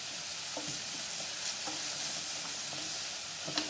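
Onions sizzle and fry steadily in a pan with sausage and bacon, with occasional scraping stirs and soft clicks, close and alone with no talk.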